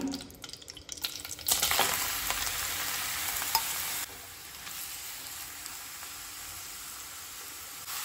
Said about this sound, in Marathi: आतां न्ही हितून हे खिसून घेतलेले गाजर जे आसा पळय ते घालून घेता